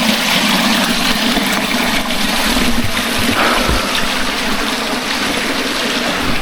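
Water flows continuously at a natural spring in Magkia, a loud, close, steady rushing trickle with a broad hiss that holds its level for several seconds and has no talk over it.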